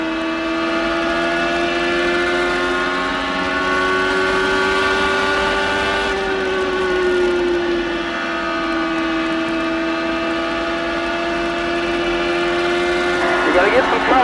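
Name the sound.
Champ Car race cars at full throttle, Milwaukee Mile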